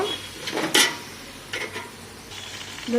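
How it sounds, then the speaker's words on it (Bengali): Spoon stirring spices, ginger-garlic paste and sour curd in a pan for a chana dal pulao, with a few soft scraping strokes and a faint sizzle, moderately quiet with no talking. "টক দই দিয়ে দিচ্ছি দিয়ে এটা ভালো করে নেড়ে নেব"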